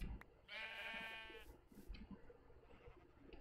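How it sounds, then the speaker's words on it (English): Sheep in the Minecraft MineFantasy2 mod give a single drawn-out bleat over faint ambient game noise, followed by quiet scattered soft sounds. "Here's some sheep."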